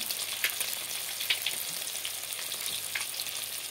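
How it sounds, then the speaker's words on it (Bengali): Small fish rubbed with turmeric and salt fry in a pan with a steady, close hiss and light crackling spatters that keep going throughout. "এখন মাছটাকে ভেজে নেব। বন্ধুরা দেখো, এখানে মাছ ভাজা বসিয়ে দিলাম।"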